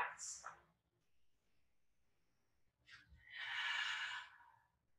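Deep, full breaths during a standing yoga mountain pose: a soft sigh-like exhale near the start, then a longer, louder breathy exhale toward the end, quiet and close between them.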